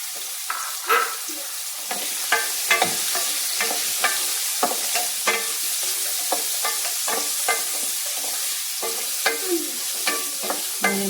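Chopped onion sautéing in a pan for a simple bitter gourd curry, a close, steady sizzle broken by frequent sharp scrapes and clatters of a spoon stirring against the pan.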